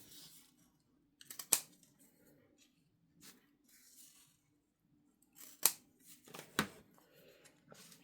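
Scissors snip through tape for a tab journal, a few sharp close cuts in two short bursts separated by quiet handling, crisp and near.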